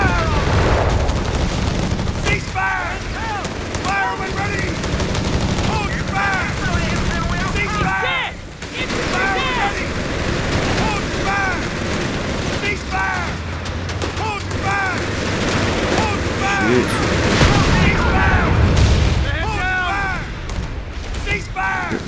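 Heavy gunfire and booming explosions fill a World War II battle in Company of Heroes 3 at Salerno, with dense overlapping shots and blasts throughout and shouting voices over the din.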